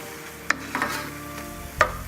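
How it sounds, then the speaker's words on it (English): A spoon stirs fresh basil through cooked tomatoes and vegetables for vegan penne, giving a few soft scrapes and one sharper clack against the pan over a low, steady cooking hiss. "I'm going to add the basil in. Stir that around for a second."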